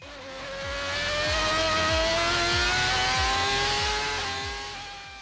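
A Ferrari V12 Formula 1 engine of the tipo 041–044 family screams past at high revs, its shrill wail climbing in pitch as it approaches and fading as it leaves, with rapid gear-change stutters underneath.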